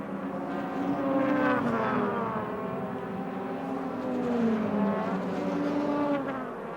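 DTM touring race cars at Oschersleben in 2001, engines droning and sweeping in pitch as two waves of cars pass at moderate distance, with no talking over them.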